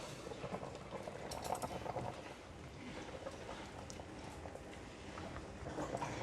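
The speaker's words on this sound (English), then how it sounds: "It is boiling." Water bubbles and churns at a rolling boil in a pot while pork blanches, a continuous soft gurgling with occasional faint clinks, fairly quiet.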